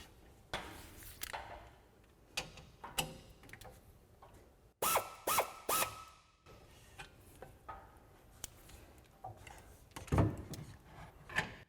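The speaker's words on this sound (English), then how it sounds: "then we'll take our 12mm socket, tighten both of these down" Ratchet driving a 12mm socket to tighten suspension bolts while a ReadyLIFT 3-inch lift kit is installed on a 2022-2024 Toyota Tundra, giving sparse close clicks and mechanical clunks with a brief cluster of sharper metallic strikes midway.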